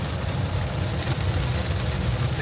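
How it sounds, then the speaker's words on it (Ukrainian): Heavy rain downpour drumming on a Tesla while driving on a Spanish motorway, a loud constant wash of water and road roar with no pauses, close and enveloping. "Злива."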